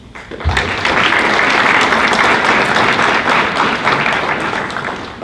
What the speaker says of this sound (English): please join me in congratulating your parents and guardians with a warm round of applause